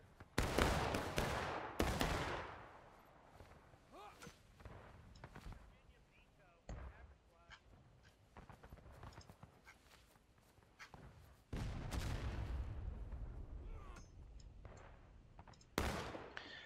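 A volley of musket fire crackles in a Civil War battle video game, with several loud bursts of rifle shots, including ragged volleys near the start and later on, set among talk and game noise.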